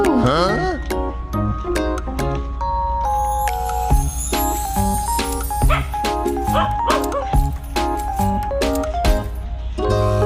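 A dog barks and yips repeatedly nearby at Wat Yai Jom Prasart temple in Samut Sakhon, Thailand, over a steady musical background, with bright tinkling tones scattered throughout.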